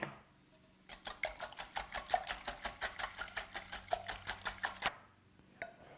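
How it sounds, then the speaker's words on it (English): Eggs are whisked into cream cheese with salt and pepper in a bowl, a fast regular series of about twenty close, crisp clicking strokes lasting around four seconds before it stops. "Add a little salt and pepper. And continue whisking."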